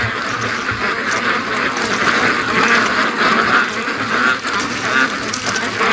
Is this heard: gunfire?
no